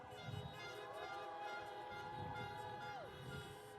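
Car horns blare and overlap at a drive-in political rally in St. Paul, Minnesota, with several sustained and sliding honks sounding faint and distant over a low crowd murmur.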